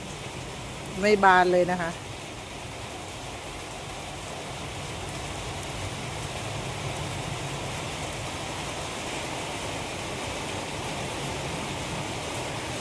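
Rain falls steadily through the night and into morning at a rural garden house, a soft continuous hiss of drops on surfaces, with someone speaking briefly near the start.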